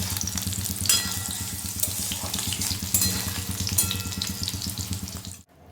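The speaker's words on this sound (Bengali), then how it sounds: "আর তারপর কিন্তু সেই তেলেই পটলটাও দিয়ে দেব। আর পটলটাকেও খুব ভালো করে নাড়াচাড়া করে" Pointed gourd (potol) fries in hot oil after potatoes, a loud, dense, close sizzle with rhythmic scraping and stirring strokes through the pan, ending abruptly.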